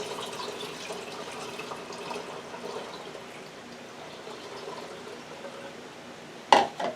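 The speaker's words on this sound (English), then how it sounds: "We're adding the orange juice." Orange juice pours into a one-gallon pitcher while a juice blend is mixed, as a quiet, continuous trickle that ends in a brief, louder splash.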